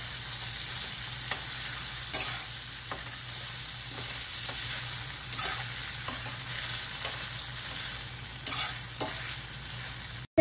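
Tomato pieces frying in a pan after ginger-garlic paste for a chana dal tomato masala curry, with a steady close sizzle and repeated stirring scrapes throughout, no talking.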